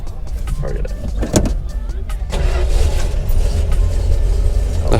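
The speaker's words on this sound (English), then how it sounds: "The hood closes automatically too." An electric motor on a classic Chrysler-built car at a car show lowers the hood automatically, a steady mechanical whir running for several seconds close by amid outdoor crowd noise.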